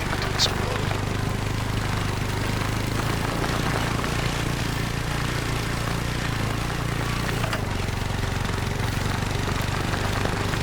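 ATV engine in The Hunter: Call of the Wild, a steady low droning rumble running continuously and fairly quiet, dropping slightly in pitch toward the end.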